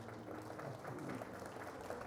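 Audience applause for a county supervisor at a Woodland Chamber of Commerce event, a dense, even patter of many hands clapping, fairly faint and distant throughout.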